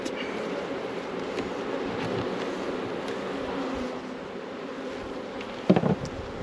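Honeybees buzz steadily around a sparsely covered hive frame from a new colony with an obsidian queen, a close, continuous drone with a brief louder knock of equipment near the end.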